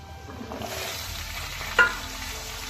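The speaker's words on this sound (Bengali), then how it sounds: "ডাঁটাগুলো দিয়েও আলুর সঙ্গে করে একটু ভেজে নেব।" Potatoes and vegetable stalks fry in a pan for a Bengali fish curry made with brinjal, potato and stalks. A continuous soft sizzle and hiss carries throughout, with one brief clatter of stirring partway through.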